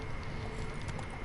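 Horse hooves clip-clopping in the Witcher 3 video game, a quick run of soft steady hoofbeats under faint background ambience, with no talking.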